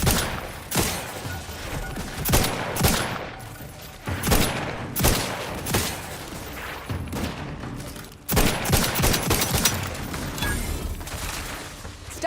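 Video game gunfire in The Outer Worlds 2: repeated loud bursts of shots in a fusillade, separated by brief gaps, with mechanical clatter and no talking.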